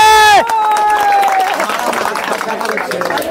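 An audience claps for a small child at an outdoor football-cage challenge game, steady crowd applause with murmuring voices following a brief ringing musical tone.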